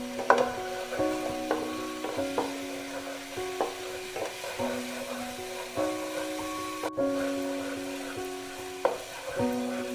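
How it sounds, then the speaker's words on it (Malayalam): Masala for crab roast is sautéed with curry leaves in a pan, giving a soft sizzle and repeated scraping stirs. A faint steady tonal backdrop runs underneath, and no one speaks. "മൂത്ത് വരണം, അതുവരെ ഒന്ന് വഴറ്റി കൊടുക്കാം"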